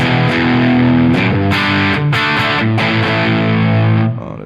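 A heavily driven electric guitar played through a KWB boost-style distortion pedal into an amp model, loud, thick chords ringing with a few brief gaps before fading at the end.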